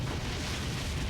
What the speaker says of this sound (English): 地下停滞庫の核壁が時限式爆薬で破壊された模様。